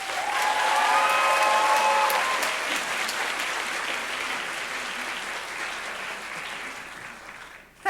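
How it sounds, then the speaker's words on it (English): A large crowd of graduates at an interior design school commencement breaks into loud, sustained applause that swells early and then gradually fades as it continues. "give an enthusiastic round of applause to their families, friends,"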